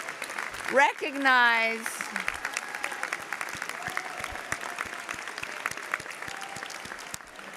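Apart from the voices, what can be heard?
applause for graduates' families and friends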